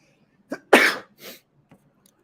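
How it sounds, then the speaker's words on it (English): One person sneezes close by, a short catch of breath and then a loud burst, followed by a softer exhale and a small sniff. "I got to sneeze."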